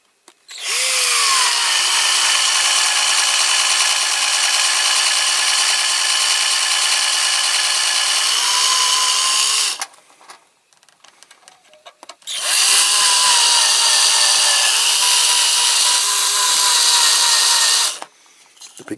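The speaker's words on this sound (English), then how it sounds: "So now I need to drill out this rivet" A small power drill bores out a rivet on a die-cast Dinky Toys AEC transporter model, whining at high pitch in two sustained runs of about nine and six seconds with a short pause between, close and loud.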